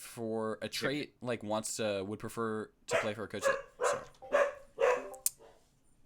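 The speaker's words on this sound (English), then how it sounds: "My dog was barking, so I muted." A dog barks in short, sharp bursts mixed in with someone talking, the barks loud and close at times.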